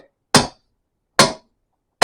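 Three loud, sharp hammer blows in a workshop, evenly spaced and ringing briefly, each struck alone with silence between.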